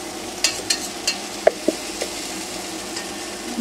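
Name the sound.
okra frying in a pan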